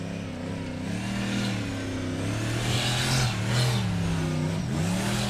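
A formula offroad car's engine revs hard on a dirt track in the U.S., a loud continuous roar whose pitch climbs and dips with throttle changes, heard fairly close.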